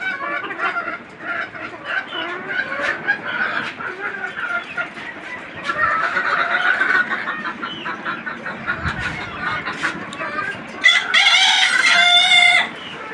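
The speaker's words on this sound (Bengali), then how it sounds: "আবার মুরগির ডাক শুনে আসলাম আসলে" A free-range country hen cackles loudly after laying an egg in a backyard coop, with repeated clucking calls and other chickens faintly around, ending in a louder burst of squawks.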